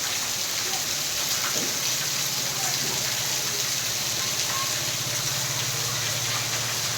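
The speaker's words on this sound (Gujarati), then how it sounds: "ત્યાં વરસાદ પડે છે આગાહી મુજબ" Steady rain falls in Kalasar near Chotila, Gujarat, a dense, even hiss of drops on surfaces that carries on unbroken throughout, with no voices heard.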